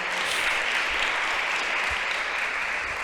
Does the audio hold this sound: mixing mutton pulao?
no